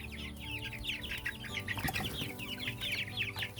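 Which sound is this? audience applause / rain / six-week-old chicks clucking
six-week-old chicks clucking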